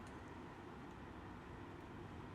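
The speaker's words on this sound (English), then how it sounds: "A train off in the distance." A distant train rumbles faintly and steadily, a low continuous drone with no clear movement or other sounds.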